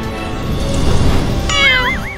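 A white kitten gives a single short, rising and wavering meow near the end, heard over a loud rumbling background.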